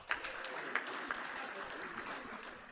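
Applause from an award ceremony audience at a hospital sector review meeting, sparse and moderate, with a few louder claps standing out and voices murmuring through it.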